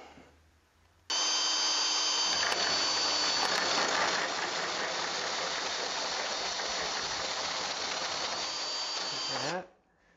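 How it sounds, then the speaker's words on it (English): A hole saw bores a hole during rear suspension fabrication on a project car, a loud continuous grinding whine running steadily for about eight seconds before stopping abruptly. "That hole saw is absolutely rooted."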